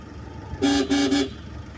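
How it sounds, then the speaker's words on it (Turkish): A parked car's horn is honked by a small child at a mountain campsite: three short toots close together, loud and near, with faint outdoor background before and after. "Kornaya bas bir de. Kornaya bas."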